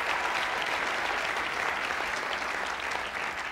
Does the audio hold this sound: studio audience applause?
yes